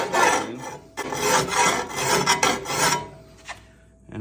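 A hand file rasps across the flat-cut steel blade of a digging tool to work in a bevel, in several rough back-and-forth strokes close up, then stops briefly before another short pass.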